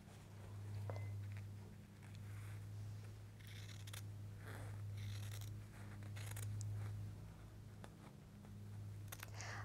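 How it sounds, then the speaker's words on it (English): Good-quality fabric scissors snip through quilt squares for a pineapple chunks block, giving a few soft, close cuts over a steady low background hum, with no talking. "This is why you really do need a good pair of scissors for this particular technique."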